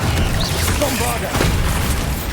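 A Bombarda blast spell from Hogwarts Legacy sets off a deep, rumbling boom, close and sustained, with a voice speaking over it.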